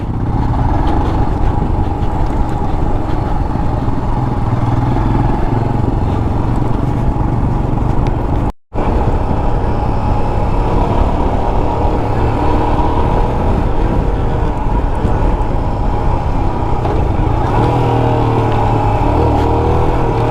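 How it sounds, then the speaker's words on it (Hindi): A motorcycle rides along a broken, rough mountain road with hairpin curves in Sikkim, its engine droning steadily and loudly close by, with a brief dropout partway through. "ये बाइक कहीं नहीं रुकने वाली है"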